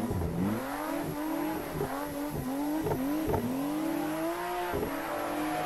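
A Toyota A90 Supra drifts in Assetto Corsa, driven with wheel and pedals: a loud, continuous engine note that rises and falls as revs surge and drop in repeated bursts, with no voices.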